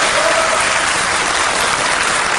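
Audience clapping at a German television entertainment show, a dense steady wash of applause that runs loud and unbroken throughout.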